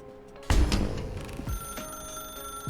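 Telephone ringing in The Stanley Parable, a bright metallic bell trill that bursts in loudly and rings on with sustained tones, no talking over it.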